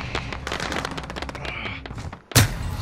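Rapid gunfire in Call of Duty Warzone rattles in quick bursts of close shots for about two seconds, then a sharp, louder blast cuts in near the end.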